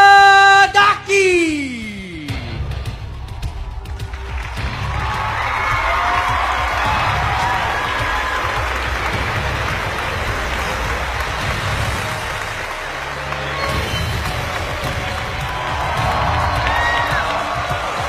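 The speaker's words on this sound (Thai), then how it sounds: "ขอเสียงปรบมือต้อนรับ" A large crowd at a Super Muay Thai boxing event applauds and cheers loudly and steadily, with whoops rising over continuous clapping.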